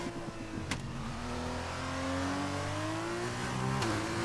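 Formula 2 race car engine lapping the Jeddah street circuit in Saudi Arabia in a racing video game, a steady loud drone climbing in pitch with brief gear-shift dips near the start and end, heard alone.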